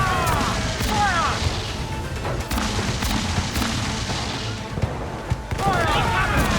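Ship cannons boom in a naval battle in Assassin's Creed Black Flag, a dense roar of overlapping blasts and crashes with voices shouting over the gunfire.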